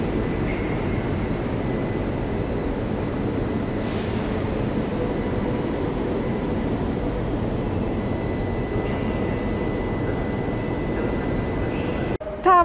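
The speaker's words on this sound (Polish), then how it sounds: "Tam lokomotywa jest, EP07, później cztery wagony." A passenger train hauled by three EP07 electric locomotives rumbles past close by at Gdynia Grabówek, a steady loud roar of wheels and cars with a faint high whine.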